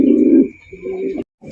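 Bombay pigeons coo close by in deep, throaty rolling phrases, a long burst followed by a second and then a short final murmur after a brief pause.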